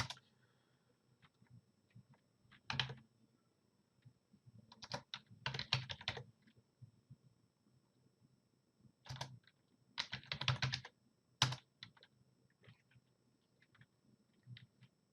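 Bursts of typing on a computer keyboard as search keywords are entered, with clustered clicking runs separated by pauses of quiet, close and moderately loud, no talk.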